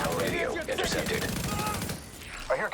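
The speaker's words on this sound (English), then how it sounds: "I hear gunfire." Rapid bursts of gunfire in the video game The Division, sharp repeated shots crackling in quick succession alongside in-game speech, with a voice talking over part of it.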